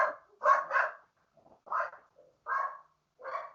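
A dog barks indoors in short bursts, about five or six sharp barks in uneven rhythm with quiet gaps between them, loud and close with no talk over it.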